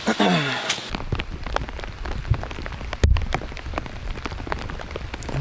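Rain falls on a golf course as a dense, steady patter of drops hitting surfaces. Scattered sharper drips stand out, and a brief voice-like sound comes near the start.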